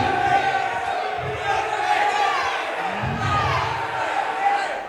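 A wrestling event crowd cheers and roars continuously throughout, a loud, dense wash of voices with a few louder swells, with talking mixed in.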